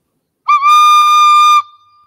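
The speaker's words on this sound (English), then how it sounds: "but less air, kind of more air escaping to get a higher sound in the recorder." Recorder with its holes uncovered plays one clear, higher whistle-like note that starts with a slight scoop, holds steady and loud for about a second, then stops abruptly.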